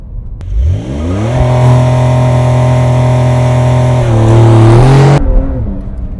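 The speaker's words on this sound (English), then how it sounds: "I want to see how much wheel spin we can get with traction off" Porsche 911 launching with launch control and traction control fully off, its engine roaring loud and close in one sustained surge that climbs in pitch and holds, then shifts and cuts off abruptly.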